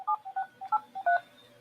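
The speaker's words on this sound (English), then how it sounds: "I have to pick up my telephone handset and dial star star 57683" A telephone handset connected to an Obihai 200 VoIP adapter dials a star code. Six or seven distinct DTMF beeps play in a quick, even sequence, close and clear, with no voices.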